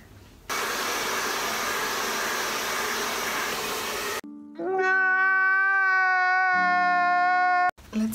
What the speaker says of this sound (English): First time blow drying my hair